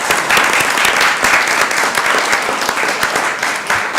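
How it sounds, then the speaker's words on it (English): City council meeting in Columbus, Georgia, with the audience giving loud, close applause to a visiting scout troop, dense clapping that holds steady for several seconds. "Let's give them a round of applause."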